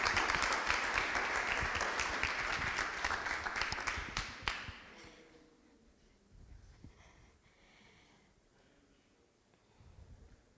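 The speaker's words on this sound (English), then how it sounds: "that needs an applaud" Applause from an audience at a talk honouring an 84-year-old chess player, steady and full for about four seconds, then cutting off into quiet with faint rustling.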